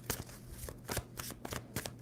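A deck of tarot cards is shuffled close up, with quick riffling bursts repeating in an irregular rhythm and soft card flutters in between.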